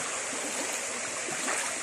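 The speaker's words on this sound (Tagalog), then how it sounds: "Lakas na uli yung sapa." Strong creek water rushing steadily, a dense continuous hiss of flowing stream close by with no voices, even and unbroken throughout.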